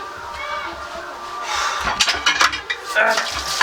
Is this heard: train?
no